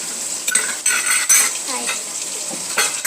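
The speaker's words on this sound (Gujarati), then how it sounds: "પછી હલાવી દેવાનું." A spoon stirs chopped onion with lemon juice and salt in a bowl, making close, repeated clinks and scrapes in uneven bursts.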